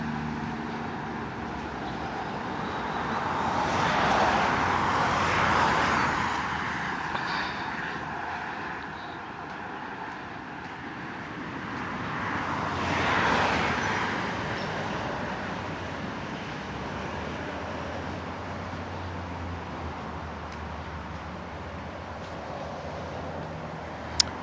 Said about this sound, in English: Cars coming through and I'm near a highway.